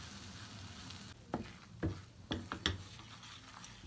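Flour being roasted in melted butter in a pan, giving a faint low sizzle with a few soft, scattered stirring scrapes in the middle of the stretch.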